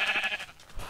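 Sheep in the video game Minecraft bleat in a short, nasal cry that fades out, heard close and clear without speech.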